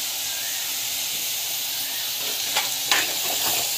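Asafoetida sautéing in hot oil gives a steady close hiss and sizzle, with a few faint stirring clicks near the end.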